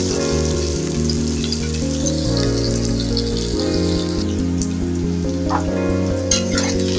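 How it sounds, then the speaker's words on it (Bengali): Chopped onions fry in a pan, giving a steady, loud sizzle throughout with faint crackles, heard under background music and without any talking. "পেঁয়াজ কুচি আমি লাল করে ভেজে নেব"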